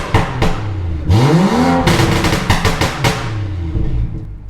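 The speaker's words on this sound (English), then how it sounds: "So right now I'm just probably gonna rev it up, not too much" A BMW 535i engine revs repeatedly in small revs, rising and falling in pitch in several loud bursts, with sharp blips of the throttle close by.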